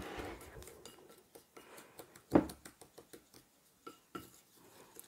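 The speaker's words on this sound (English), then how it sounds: "we're going to give that a wee mix" A spoon stirs a powder mix of baking soda and citric acid in a bowl for a bath bomb. It makes soft scraping with a series of light clicks and taps, plus one louder knock midway.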